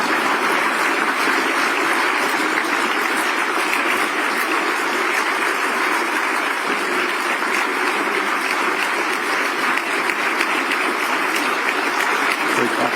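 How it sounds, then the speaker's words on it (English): An audience gives big applause, a dense, steady wash of loud clapping that holds unbroken throughout. "Big clapping for you."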